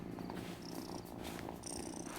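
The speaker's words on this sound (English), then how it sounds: "Such a pretty cat." Steady, continuous purring from a cat in the video game Wylde Flowers, close and even, running throughout over a dense, busy game soundtrack.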